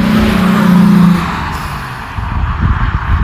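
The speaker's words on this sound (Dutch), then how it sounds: "het autoverkeer begint hier recht op gang te komen." Car traffic on a country road near the village of Hengstdijk in Zeeland, with a loud, steady vehicle roar that eases off midway and then picks up with rougher tire and engine rumble, heard alone.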